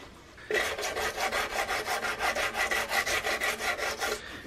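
A half round file rasps across a carved wooden gunstock in a steady run of about twenty even back-and-forth strokes, close and alone.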